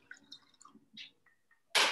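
Rum poured over dense ice cubes in a highball glass, a short burst of splashing liquid hitting ice near the end after a few faint clinks and drips, close and brief.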